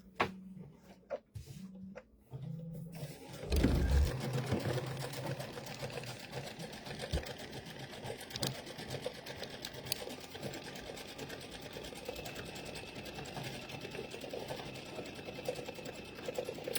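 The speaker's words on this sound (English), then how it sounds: "we're going to stitch out the little bunny feet." An embroidery sewing machine stitching out little bunny feet for an Easter bunny coaster starts up after a few quiet clicks, then runs with a rapid, steady mechanical chatter close by.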